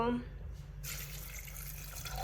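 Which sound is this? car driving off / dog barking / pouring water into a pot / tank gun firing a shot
pouring water into a pot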